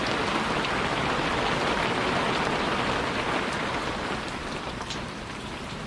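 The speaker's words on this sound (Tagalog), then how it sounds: "Huwag kang lumabas na ulan." Rain falls steadily in the Philippine countryside, a dense, even hiss of drops on surfaces that carries on without a break, fading slightly toward the end, with no voices over it.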